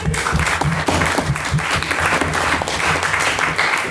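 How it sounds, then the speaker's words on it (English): Sustained, dense applause from a debate audience after a student's speech, loud and steady throughout with no talk over it. "So another round of applause for Jack."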